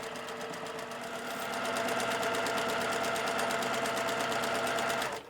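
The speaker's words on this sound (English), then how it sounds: "going to go ahead and sew all the way down the side and across the bottom again" Sewing machine running steadily at speed, a rapid even stitching rattle while sewing a pillowcase's side and bottom seams, close and continuous, cutting off at the end.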